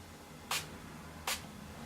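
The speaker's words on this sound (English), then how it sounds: "I'm going to spritz it with some setting spray." Two quick, short spray bursts of makeup setting spray hiss from a pump bottle onto a brush, spaced under a second apart against quiet room background.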